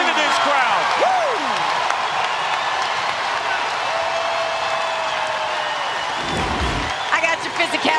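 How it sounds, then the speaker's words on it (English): A basketball arena crowd at an NCAA women's tournament game roars and cheers after a defensive stand. The noise is loud and sustained, with a commentator talking over it and a sharp bang near the end. "Listen to this crowd."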